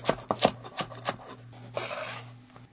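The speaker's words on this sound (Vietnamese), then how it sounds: "Hành lá mình cắt nhỏ để lát nữa mình nêm vào sau cùng" Knife chopping green onions on a cutting board in a home kitchen: about six sharp, close chops in an uneven rhythm, then a brief scraping rasp, with no talking.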